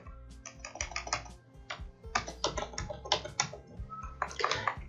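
Rapid keystrokes on a computer keyboard while writing web design code, coming in quick bursts with short pauses between, close and clear, no talking.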